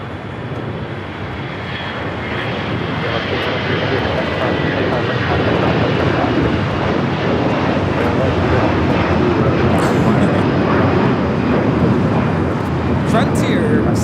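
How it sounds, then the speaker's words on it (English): A Frontier Airbus A321 in special livery takes off from Los Angeles airport bound for Houston, its engine roar building and then holding loud and sustained, with voices talking over it. "1756 taking off to Houston Intercontinental on the A321 Cubby the Bear livery"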